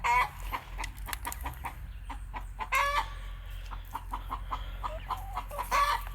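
Young chickens peep and cluck close by in a steady string of short, bright cheeping calls, with a low hum running underneath.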